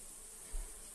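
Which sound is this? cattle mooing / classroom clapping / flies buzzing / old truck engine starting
flies buzzing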